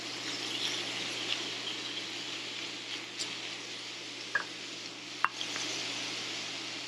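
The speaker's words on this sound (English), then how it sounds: "here I have a pound of ground beef and I'm adding it to my skillet" A pound of ground beef sizzles in a cast iron skillet, a steady broad hiss with a few soft scrapes and clicks of stirring, no voices.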